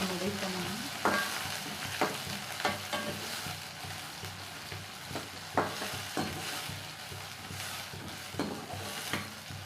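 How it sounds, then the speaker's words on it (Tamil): Two sliced onions fry in a pan for melagu kulambu, a steady sizzle broken by a spatula scraping and stirring at a roughly regular pace, close and clear with no talk. "நெக்ஸ்ட்டு 2 ஆனியன் கட் பண்ணி வச்சுருந்தேன் நீல வாக்கில் அதை போடுறேன்."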